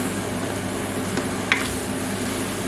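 Beef and carrot stew simmering in a pot as its liquid cooks off, giving a steady low sizzle and bubbling hiss throughout, with a couple of brief clinks on top and no talk.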